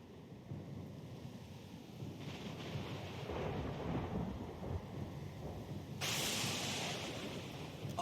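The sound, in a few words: thunderstorm at sea in video game Pillars of Eternity 2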